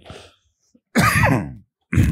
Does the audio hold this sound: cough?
yes